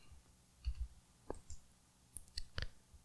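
A few faint, sharp computer mouse clicks, quiet and isolated, spaced irregularly across a soft background.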